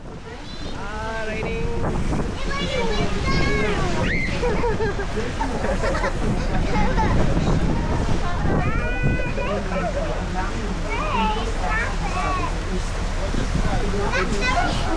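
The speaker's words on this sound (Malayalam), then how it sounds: "പിന്നെ മഴയത്തായി ബോട്ട് റൈഡ്." Boat ride on the river in Ljubljana during rain, with wind buffeting the microphone and water rushing past the hull throughout, while people talk over it.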